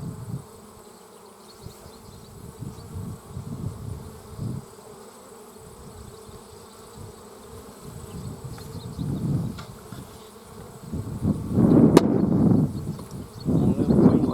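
Honey bees buzz steadily around a beehive, a continuous droning hum with a swell of closer, louder buzzing near the end and some faint handling noises.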